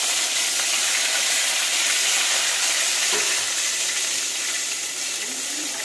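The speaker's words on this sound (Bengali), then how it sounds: "এই যে একটা তেজপাতা আমি ফোড়ন দিয়ে দিলাম বন্ধুরা, আর দিয়ে দিলাম টমেটো" A bay leaf and tomato dropped into hot oil, sizzling loudly and steadily with a bright hissing spatter that eases slightly toward the end.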